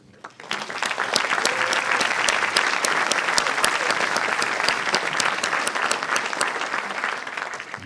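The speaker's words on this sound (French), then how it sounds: "Je vous remercie de les applaudir." A large conference audience applauds the organising committee members at a botany colloquium, steady dense clapping that starts abruptly and holds evenly throughout.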